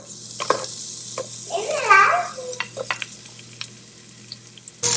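Onions sizzle in a little oil for toddler khichdi, a soft steady frying hiss with a few clicks and a short scraping stir near the middle, fairly close and unaccompanied by talk.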